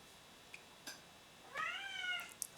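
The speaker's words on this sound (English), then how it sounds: "here I got my little other cat just like wondering, crying over here" A house cat cries with one drawn-out, wavering meow, close and fairly loud, preceded by a few small soft sounds in a quiet room.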